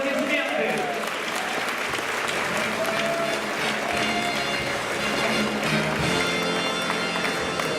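A crowd applauds at a ceremony honoring the best graduates of 2016/2017, dense rhythmic clapping at moderate loudness that continues steadily under music and voices.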